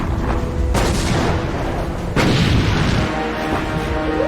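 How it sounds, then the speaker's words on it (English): Heavy naval gunfire as the battleships Bismarck and HMS Hood exchange salvos, two loud booming blasts with long rumbling decay over a constant low roar. "The most powerful warship afloat, the German battleship Bismarck and heavy cruiser Prinz Eugen, exchange fire with the pride of the British Navy, HMS Hood and Prince of Wales."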